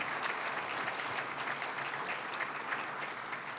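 Steady crowd applause at a job training graduation, many hands clapping in a dense, continuous wash at moderate volume for the whole span, with no talk over it.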